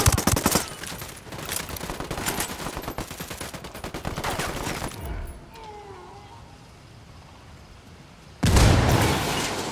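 Rapid automatic gunfire in the tactical shooter Ghost Recon Wildlands, dense bursts of shots for several seconds, then a lull with faint ambience and another sharp loud burst near the end; voices talk faintly under it.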